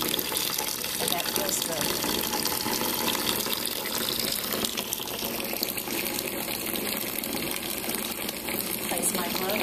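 Tepid tap water runs steadily into a sink for cleaning dentures during a nursing assistant skills demonstration, a continuous close splashing rush under brief speech.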